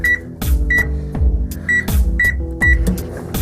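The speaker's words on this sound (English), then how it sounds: "pop them in the microwave on auto defrost" A microwave oven running on auto defrost hums and cycles, its drone pulsing on and off with short beeping tones and soft clunks in a repeating pattern.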